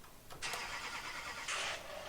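A Chevy truck in Farming Simulator 19 starting up, a short cranking burst followed by the engine catching into a quiet idle, with a second rise as it revs briefly.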